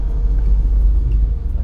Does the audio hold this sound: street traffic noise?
yes